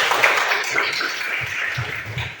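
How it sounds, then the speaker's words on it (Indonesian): A classroom breaks into applause: a scattered, fairly loud patter of many hands clapping with faint voices mixed in, continuing throughout. "Tepuk tangan."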